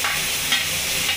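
Chopped onion sizzles in hot oil over a nigella-seed and slit green chilli tempering. It makes a steady, dense hiss that holds level and close, with no talk.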